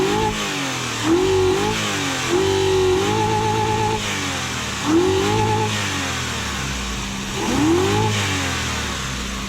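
A Toyota Celsior / Lexus LS400 engine with a replaced faulty ECU is revved repeatedly, four or five rising blips climbing above a steady idle, close and loud.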